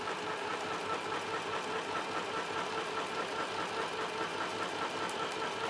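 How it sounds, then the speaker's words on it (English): A sewing machine stitches steadily around a circle on a craft piece, producing a fast, even mechanical chatter that runs continuously at a soft level, close by and with no voices. "you can just listen to me sew real quick."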